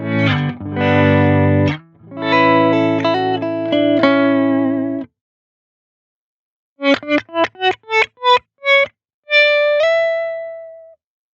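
An electric guitar run through a Chroma Console pedal's touch-sensitive swell effect, first dense distorted chords, then a pause, then a series of separate plucked notes fading in with soft attacks and short ringing tails.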